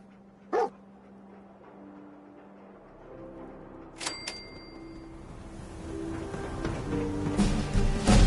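A dog barks in the video game Fallout 4: a single sharp bark, then a couple of quick yips later, set against low game music and ambience that builds toward the end.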